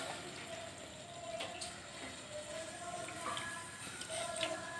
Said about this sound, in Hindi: हम इसमें थोड़ा सा पानी ऐड कर रहे हैं